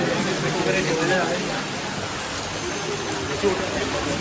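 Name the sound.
rain falling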